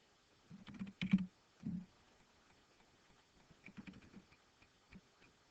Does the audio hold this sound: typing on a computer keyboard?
yes